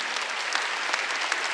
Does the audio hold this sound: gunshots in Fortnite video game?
no